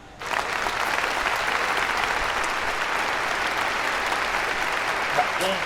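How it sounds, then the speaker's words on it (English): A canned applause sound effect plays after a brief quiet start, a steady sustained wash of crowd clapping that runs on for several seconds at moderate level. "So I usually go the regular applause."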